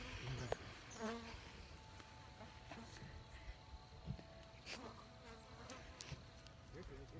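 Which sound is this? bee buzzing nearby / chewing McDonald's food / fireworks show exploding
bee buzzing nearby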